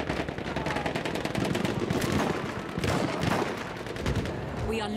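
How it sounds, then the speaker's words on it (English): Rapid gunfire in a Battlefield 1 battle, with dense bursts of automatic fire and overlapping shots that stay loud and continuous throughout, joined by occasional heavier blasts in the mix. "Where's all this gunfire coming from?"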